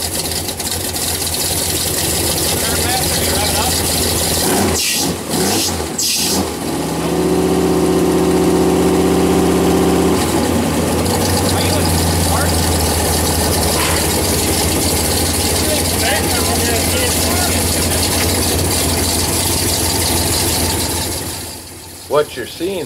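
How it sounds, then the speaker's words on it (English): A short bus with a grenaded transmission gives off loud, continuous ratcheting and grinding as broken parts churn inside. An idling engine drones underneath, with a steadier mechanical stretch in the middle before the noise cuts off near the end. "every time the tires let go and roll a little bit, are actually more parts breaking in the grenaded transmission"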